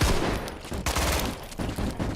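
Gunfire in the multiplayer zombie video game Contagion crackles in rapid bursts of loud, dense shots with short pauses between them.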